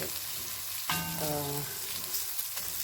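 Blended chili paste, seeded before blending, sautés in a pan for beef rendang, giving a steady low sizzle with a brief brighter burst of frying and stirring partway through, alone without talk.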